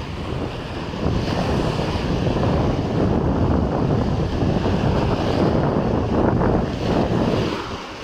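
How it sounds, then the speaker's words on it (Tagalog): Strong wind roars across the microphone while heavy sea surf surges near a fishport as Typhoon Uwan approaches, a loud, continuous rumbling wash with no voices. "Lalakas ng hangin mga katambay. Pumapasok na ang bagyo."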